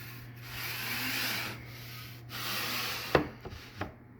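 Pieces of a sliding barn door kit from Amazon gliding into place, making a steady rubbing, sanding-like scrape followed by a few crisp taps as they seat flush.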